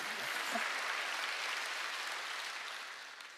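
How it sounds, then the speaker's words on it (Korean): Crowd applause at a sermon-style gathering, a dense wash of clapping that holds steady, then gradually thins and fades toward the end, no voices. "박수 치라 얘기야."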